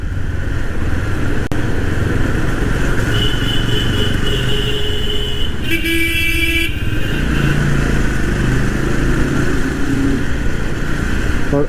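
A motorcycle rolls through narrow lanes behind another rider on a Yezdi Roadster ride, its engine a loud, steady close rumble with a brief sharp whine midway and no talk.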